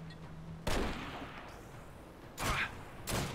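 Gunfire in the video game Army of Two cracks out in a few sharp, loud shots spaced apart, each followed by a short decaying echo, with no talking in between.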